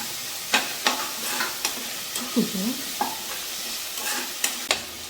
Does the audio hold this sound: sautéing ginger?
yes